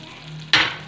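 Hot oil hits a pot of pressure-cooked mutton with a sudden loud sizzle and splutter after a quiet, low-humming moment, then keeps frying steadily up close.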